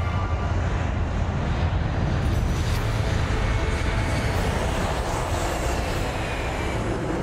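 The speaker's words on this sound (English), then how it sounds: "the A380 accelerates down the runway" An Airbus A380 accelerating down the runway for takeoff, a steady, loud, broad engine roar with rumbling that holds at a constant level throughout, with no voices.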